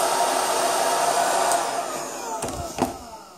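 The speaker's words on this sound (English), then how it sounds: "We put on a wrap using a hairdryer." Hairdryer running on low heat, a steady close airy whoosh that slightly fades before a couple of brief handling clicks near the end, with no talking.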